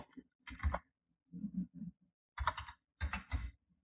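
Typing a command on a computer keyboard: several short, quiet bursts of rapid key clicks in uneven groups, close by, with no voice.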